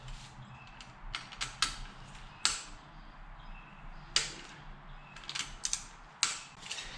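A wrench clicks and ratchets while torquing the clutch nut on a Yamaha YFZ450 quad, a quiet series of sharp creaks and metallic clicks spaced irregularly, close by with no speech.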